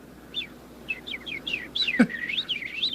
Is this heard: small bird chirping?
yes